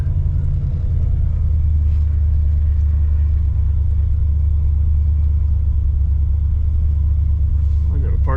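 A 1964 Oldsmobile 98 engine runs at a steady high idle, with a loud continuous low rumble that holds unchanged throughout, close to the microphone.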